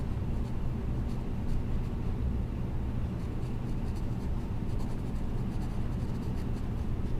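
A pen or pencil writes geometry notes on paper, a steady, soft scratching that runs without pause over a low background hum.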